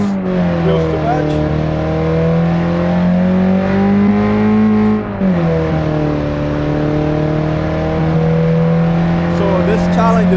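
Race car accelerating hard through four gears on a land speed challenge run, its engine note rising in a loud, steady climb with a brief dip partway as it shifts, then pulling on again; voices talk over it.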